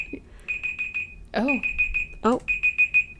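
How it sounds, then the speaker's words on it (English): A timer alarm beeps in rapid repeated bursts of short high tones, loud and close, while people talk over it briefly. "Oh, it was a timer."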